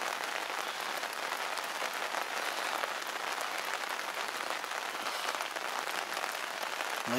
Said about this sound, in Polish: Deszczyk.